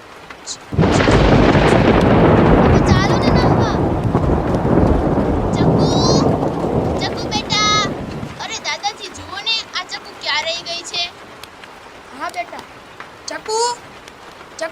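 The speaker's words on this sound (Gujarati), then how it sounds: "કેટલો મસ્ત વરસાદ આવે છે" Loud, dense downpour of heavy rain roars steadily, then cuts off abruptly; afterward voices talk and call out over a quiet background.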